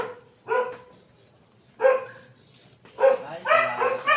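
A dog barks in three separate bursts, with a gap before the last two, at moderate distance. Between the barks the room is quiet, and one bark trails into a yelp-like whine.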